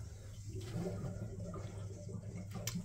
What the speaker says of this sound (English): we'll just open the taps, drain the water out